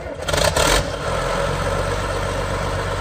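A 1998 John Deere 850C LT dozer's diesel engine catches after a short burst of cranking noise, then settles into a steady, loud, low rumbling idle close by, with no talk.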